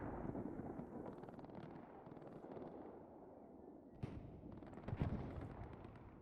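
Artillery fire explodes in the Hell Let Loose video game, a muffled low rumble of distant blasts rolling on, with sharper, louder impacts near the end.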